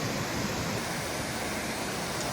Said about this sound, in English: Nice big waterfall down here, and then a whole bunch of little ones coming down the rocks.